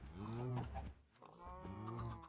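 A cow in the Minecraft video game gives two drawn-out moos, loud and close, separated by a short pause.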